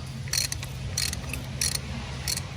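A ratchet snugs a spark plug down on a 1996 Dodge Ram 1500, four short bursts of quick clicking spaced evenly apart over a low steady hum, close and fairly quiet.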